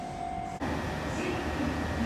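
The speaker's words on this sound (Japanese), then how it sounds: "2番線から電車が発車いたします。" Sotetsu 11000 series electric train, set 11003F, pulling out of platform 2 at a station: a steady broadband rumble and hum of rolling stock with a brief dip, continuous and fairly close.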